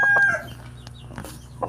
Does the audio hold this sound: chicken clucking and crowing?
yes